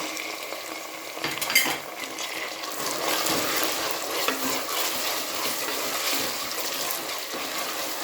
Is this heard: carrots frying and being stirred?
yes